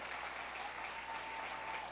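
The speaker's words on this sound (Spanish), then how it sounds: "Denle un aplauso al Señor." A church congregation applauding during a Christian sermon, a continuous even patter of many hands clapping together, heard at a moderate distance without speech over it.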